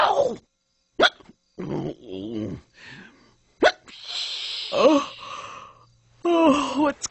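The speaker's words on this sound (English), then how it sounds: "I just can't get rid of these hiccups." A cartoon bear hiccups repeatedly in sharp, loud bursts spaced irregularly, mixed with gasping breaths and a few spoken words.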